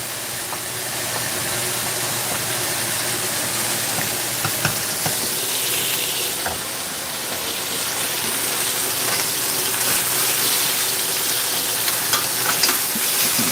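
Potatoes cooking in a pan of foaming melted butter give off a steady, loud sizzle and frying hiss, continuous throughout with small crackles and no talking.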